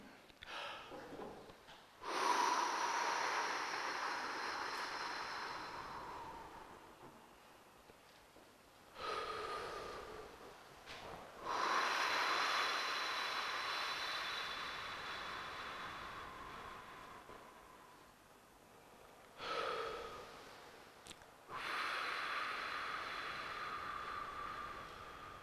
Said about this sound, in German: tiefes Atmen in den Bauch.